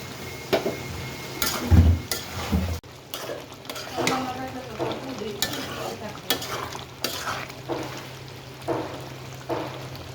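Potato and liver curry with green chillies is stirred and fried in a pan, with a spoon scraping and clattering against metal in irregular strokes over a low sizzle, close and fairly loud.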